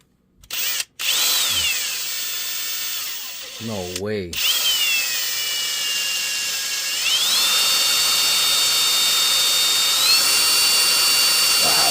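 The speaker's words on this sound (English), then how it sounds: "ever so carefully, we'll guide this drill bit in here." A power drill bit grinds into a hard broken bolt in a Pontiac engine, a loud high whine that starts, pauses briefly, then runs steadily with shifting pitch, while a voice briefly speaks.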